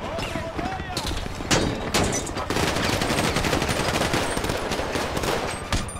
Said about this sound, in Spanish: Disparos, disparos.